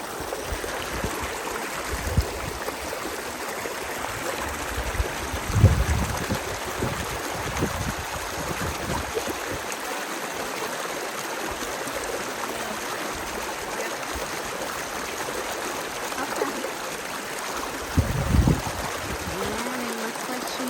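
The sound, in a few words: stream water crossing on Appalachian Trail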